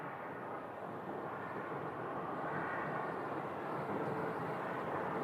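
An Embraer 175 airliner pushing back at Phoenix Sky Harbor produces a faint, steady, distant engine rumble and hiss, continuous and unchanging.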